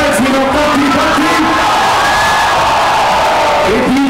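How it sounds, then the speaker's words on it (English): A large crowd at a Katti Batti film promotion event cheers, whoops and shouts loudly and continuously, close and dense throughout. "huge round of applause for the entire team of Batti"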